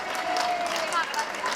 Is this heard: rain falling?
no